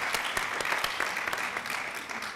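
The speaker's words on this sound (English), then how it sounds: "Let's give a round of applause also for Tanya McCoy" A crowd applauds at a domestic violence town hall meeting, a steady patter of many hands clapping at moderate distance, continuous throughout with no talking.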